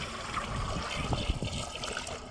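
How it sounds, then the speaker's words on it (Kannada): Water is poured into a cooking pot for egg sambar being made outdoors in a farm field, a steady close trickling and splashing that runs throughout. "ಈಗ ನೀರು ಹಾಕೋತಾ ಇದ್ದೀನಿ ನೋಡಿ"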